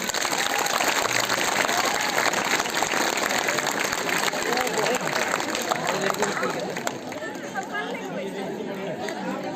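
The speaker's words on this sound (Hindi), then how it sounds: "बहुत अच्छा, ताली बजा दो।" School children applaud together during an outdoor yoga session, a dense, loud patter of clapping blended with lively chatter and voices throughout.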